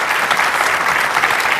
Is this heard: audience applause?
yes